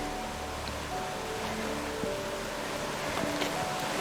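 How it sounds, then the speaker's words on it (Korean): Flowing water in the Canadian Rockies during the spring thaw, a steady rushing wash that holds even throughout, heard alone with no voices over it. "아, 물소리 좋아요."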